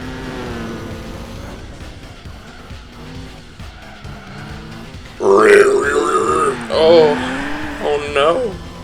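A Nissan Skyline in Gran Turismo 4 races at speed through a rally event, engine droning steadily before tires squeal and the motor wails louder and higher, with talking over it.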